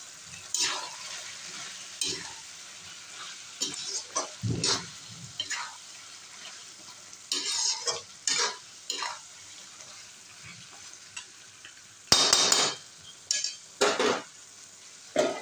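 Cooked chicken fries in a pan as garam masala goes in and gets stirred, with a soft sizzle under bursts of spoon scraping and clatter that come and go, including one louder rattle near the end.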